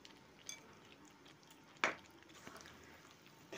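Shelled roasted peanuts drop into a wok of sticky sweet mixture for peanut chapa, with one sharp clatter followed by faint, soft stirring scrapes close by.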